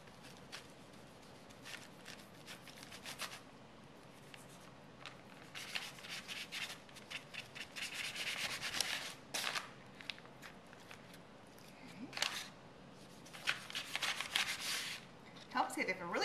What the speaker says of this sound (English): I'm going to trim off the excess fat.